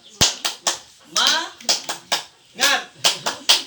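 A group of women performs the rhythmic Indonesian tepuk semangat spirit clap, sharp close hand claps in a patterned sequence interleaved with chanted voices between the beats.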